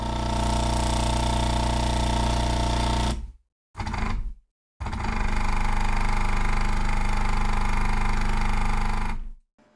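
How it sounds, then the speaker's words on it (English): SIMSONN VAM Pro haptic reactor motors running at full 100% power on sim-racing pedals give a loud, steady, jackhammer-like rattling buzz that cuts out twice briefly and then resumes before stopping. "the motors are extremely noisy and overpowering"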